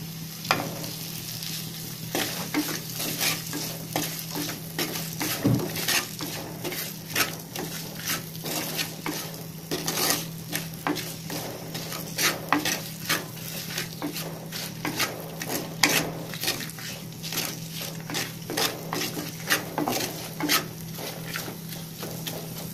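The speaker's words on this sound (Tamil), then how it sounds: "வெங்காயம் வந்து நல்லா வதங்கட்டும். இதோட உப்பு சேர்த்து வதக்கலாம்." Onions sautéing with salt in a clay pot for a village-style fish curry, a continuous close sizzle broken by frequent scraping, rhythmic stirring strokes and the odd clink of a spoon on the pot.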